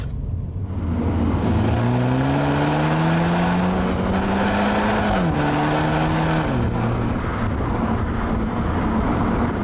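A 2023 MINI Cooper S engine, gearbox in manual and sport mode, drones loudly under heavy road and wind roar, its pitch climbing steadily, dipping sharply at a gear change, then climbing again.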